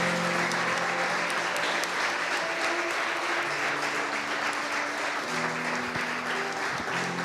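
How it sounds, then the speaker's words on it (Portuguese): A church congregation applauds at a service, a dense, steady wash of clapping from many hands that stays loud and even throughout, with no talk over it. "Eu queria que a igreja, se puder, e eu acredito que pode, aplaudisse a Jesus, o Salvador."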